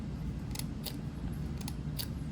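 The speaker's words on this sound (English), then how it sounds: "These scissors, I don't know if you can hear, but they're so f***ed up because I tried cutting metal with them." Damaged scissors, bent from cutting metal, snap open and shut four times in an uneven rhythm, each a short sharp metallic click close to the mic over a low steady room hum, with no voices.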